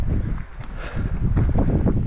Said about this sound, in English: One of the things I'm concerned about is it's really windy.